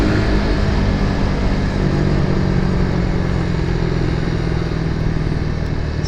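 A Suzuki Raider motorcycle drones steadily while riding, a constant mid-pitched engine hum with road and wind noise and no clear revving changes.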